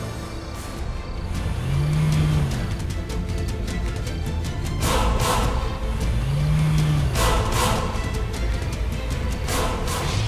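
A car engine revs and pulls away in a street setting, two rising whines of acceleration a few seconds apart over steady broadband road and traffic noise.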